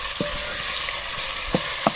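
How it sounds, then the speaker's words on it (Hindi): About two spoons of garlic, ginger and green chili paste fry in hot oil, giving a dense, steady sizzle broken by a few short stirring scrapes close by. "अब मैं लहसुन, अदरक और हरी मिर्चों का पेस्ट है तकरीबन 2 चम्मच, इसको फ्राई करेंगे।"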